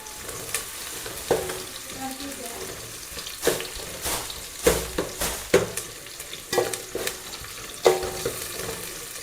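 Onions fry in a pan with a steady hiss of sizzling oil, punctuated by repeated clattering stirs and scrapes of the spatula at close range. There is no talking.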